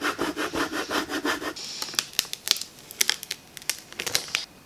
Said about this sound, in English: So we're just going to go and use our scraper.